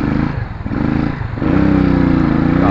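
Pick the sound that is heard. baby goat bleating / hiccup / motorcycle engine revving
motorcycle engine revving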